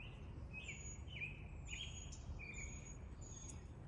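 Birds singing outdoors after a storm: repeated high chirps and short whistled phrases, fairly faint over a steady low rumble of background noise, with no voices.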